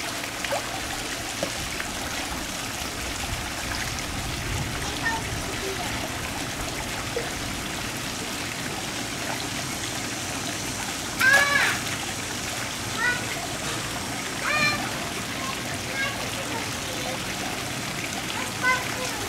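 Twin children paddle and splash in a backyard pool near a banana tree, with continuous light watery splashing and trickling at close range and occasional louder splashes, while a child and an adult talk over it.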